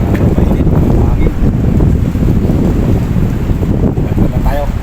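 Strong wind gusting steadily across an open shoreline spot during a hand line fishing trip in bad weather, a loud continuous rushing roar buffeting the microphone throughout, with faint background noise beneath.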